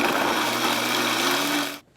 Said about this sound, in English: All about the blender.